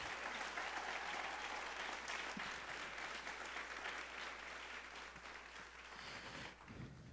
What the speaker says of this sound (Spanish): Y si ese aplauso es para Dios, debes de dárselo más fuerte entonces.